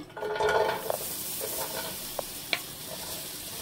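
Onion hits hot oil in a pan at the start of a chickpea curry, giving a soft steady sizzle with a few light stirring clicks and scrapes, fairly faint and close.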